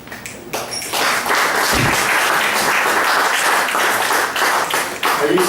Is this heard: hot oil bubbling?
no